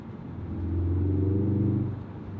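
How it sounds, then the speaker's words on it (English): A four-cylinder Ford Focus RS exhaust growls and swells as the engine revs up, a deep steady rumble that holds loud for a moment and then eases off. "That exhaust note is so good."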